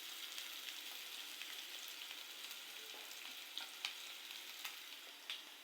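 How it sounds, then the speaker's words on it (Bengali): Onion and garlic fry in a pan, giving a soft, even sizzle with a few small sharp pops and stirring scrapes, heard close and fairly quiet with no talking. "আর এই যে পেঁয়াজ রসুন এগুলো ভেজে নিচ্ছি"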